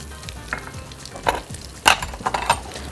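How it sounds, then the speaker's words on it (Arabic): Cumin and coriander seeds sizzle in a hot pan, a low frying hiss broken by sharp crackles, pops and a few clinks of a utensil against the pan, louder toward the end, with no voices. "هحط الكمون والكزبره حب وهحط عليهم على طول الثوم والفلفل الحراق"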